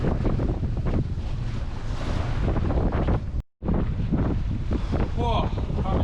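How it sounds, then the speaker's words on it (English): A strong nor'easter batters a fishing boat on a rough sea off Sydney, with loud, continuous wind buffeting the microphone over crashing waves and surf, broken by a brief dropout midway. "holding the boat up because Mother Nature's throwing one hell of a nor'easter"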